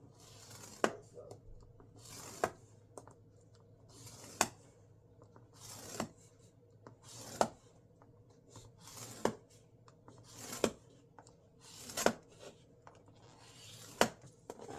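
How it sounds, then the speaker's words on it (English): A scoring tool presses lines into craft cardstock for a 5x7 card, one sharp scrape-and-tap about every one and a half seconds in a steady rhythm, close and fairly quiet. "And I'm going to score every 1/2 inch."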